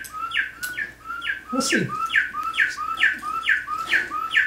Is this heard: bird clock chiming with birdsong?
yes